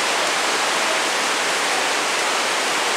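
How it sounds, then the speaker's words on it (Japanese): Heavy downpour in Yamato-Takada amid a heavy rain warning, a constant dense hiss and roar of rain, loud and near, holding steady with no speech. "すごい雨降ってんね。"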